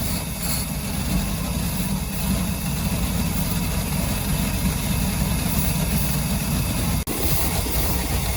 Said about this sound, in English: You hear it change the tone of the engine.